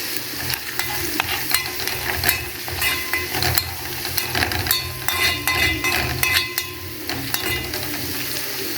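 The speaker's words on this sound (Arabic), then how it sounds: "اول ما يبتدي يصفر معانا هنعمل ايه؟ هنطشه بشويه خل" Garlic fries and sizzles steadily in a pan after a splash of vinegar, a dense hiss with scattered crackles and the scrape of stirring throughout, close and continuous with no talk.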